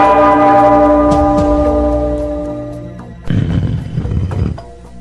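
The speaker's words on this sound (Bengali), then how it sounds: "ওই ঘন্টাটা বাজাও" A large bell in an animated cartoon strikes once and rings loudly, its tone fading slowly before a rough rumbling burst cuts in near the end.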